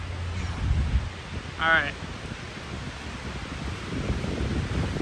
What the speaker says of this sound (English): Literally crazy wind.